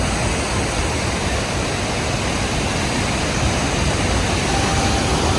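Iguazu Falls thunders nearby, a massive waterfall producing a constant heavy roar of water that stays steady and loud throughout, with no voices.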